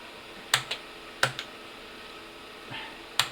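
A few sharp keystrokes on an IBM PC/XT Model 5160 computer keyboard, arriving as isolated clicks and a short burst, close and fairly quiet over a low background hum.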